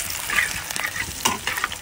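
Nigella seeds fry in oil in a pan, a close, steady sizzle with crackles and a few scraping stirs, no voices.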